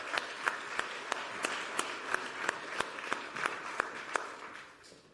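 An audience at a European ocean conference gives a warm round of applause, a dense even patter of clapping with occasional sharp claps, fading away at the end.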